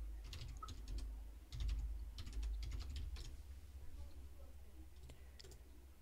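Keys clatter on a computer keyboard in quick bursts of clicks, with pauses between runs, close and fairly quiet over a low steady background hum.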